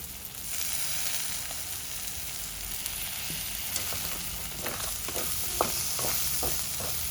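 Lamb brain fries on a low flame with coriander leaves and lemon juice, a continuous soft sizzle with a run of light rhythmic spatula scrapes and taps toward the end; nobody speaks.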